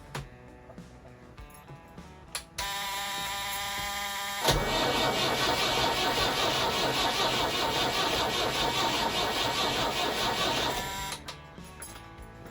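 A car engine, just rebuilt after hydrolock, cranks with a few short clicks, then the starter turns over loud and steady, catches and runs rough and close for several seconds before cutting out.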